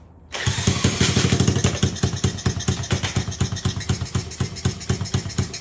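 A restored Honda Z50 50cc four-stroke motorcycle engine fires up and settles into a steady, rapid putter at idle, loud and close with no voices.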